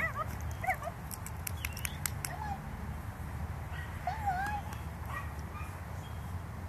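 Norwegian Buhund puppies about seven weeks old bark in short, sparse yips and whimpers against a steady low background rumble, fairly faint and distant, with a voice encouraging them in between.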